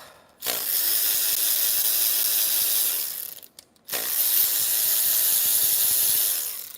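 A ratchet wrench working loose the top engine bolts during a cam gear replacement, two long loud bursts of rapid even clicking separated by a short pause, close up with no talk.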